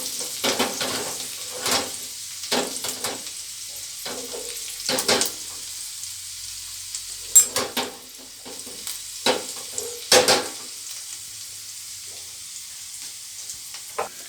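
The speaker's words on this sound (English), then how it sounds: "I am going to add the minced garlic. I will cook it till the raw smell of the garlic goes away." Minced garlic frying in a pan for a spinach and mustard greens dish, a steady soft sizzle punctuated by repeated sharp stirring scrapes at irregular intervals, close by with no talking.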